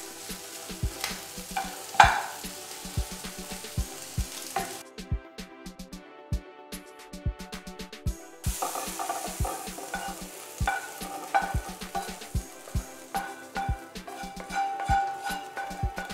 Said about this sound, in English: You're going to stir it up a little bit.